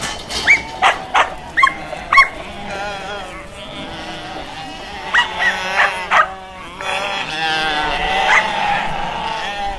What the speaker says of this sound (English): as soon as the sheep are shorn and come out into the paddock, they reunite with the lambs